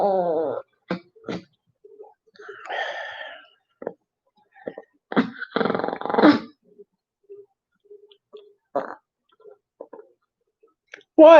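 A deaf dog gives low growls and whining, moaning vocalizations in short, scattered bursts, with quiet gaps between them, close to the listener indoors.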